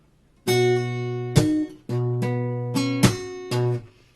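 Guitar plays a short passage slowly, about six plucked notes and chords with crisp percussive attacks and a few brief pauses, played up close and alone.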